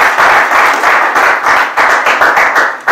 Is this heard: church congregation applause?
yes